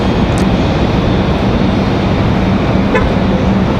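An Endeavor CRJ-900LR regional jet arrives at Raleigh-Durham airport, a loud, steady broadband engine roar filling the whole stretch with a brief horn-like toot near the end.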